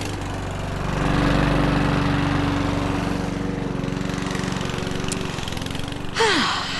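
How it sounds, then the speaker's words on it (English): A lawn mower drones close by while mowing a large lawn, a steady engine hum swelling and easing, ending with a brief rising whoosh. "I know you didn't tune in to hear someone mowing their lawn"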